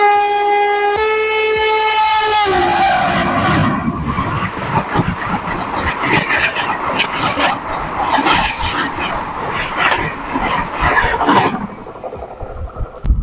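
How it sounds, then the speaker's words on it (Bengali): The Howrah–Mumbai Mail passenger train passes close by, a long horn blast at the start followed by loud, steady rumbling and clattering of wheels that cuts off near the end. "সামনে তোমরা দেখতে পাচ্ছ মুম্বাই মেল আসছে"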